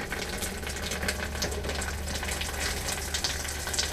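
Cold water runs steadily from a camper tap, a constant hissing splash at moderate level with no pauses throughout.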